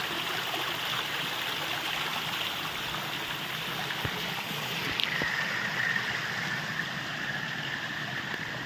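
A forest stream flows steadily with an even, continuous rush of water, close and unbroken, and a brief faint tone partway through.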